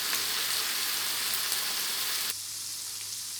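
Onion and cashew nuts sizzle in a pan for egg gravy, a close steady frying hiss that drops to a quieter sizzle partway through, with no talking.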